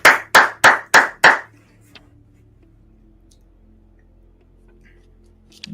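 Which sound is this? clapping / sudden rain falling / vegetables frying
clapping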